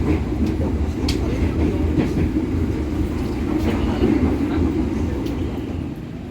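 The Harina economy premium passenger train, Bandung to Surabaya, rumbles along the rails with a continuous low roar and occasional rhythmic clacks, heard from inside the carriage, approaching Cimahi station.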